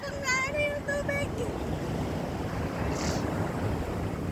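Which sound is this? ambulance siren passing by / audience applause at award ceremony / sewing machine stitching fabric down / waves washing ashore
waves washing ashore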